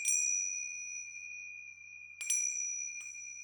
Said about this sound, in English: I love using tincture bells